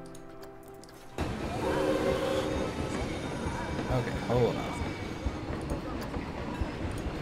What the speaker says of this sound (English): We will ride the train in all of its laggy glory.